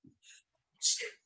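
A single quick sneeze, faint and close, comes after a soft breath and a brief voice.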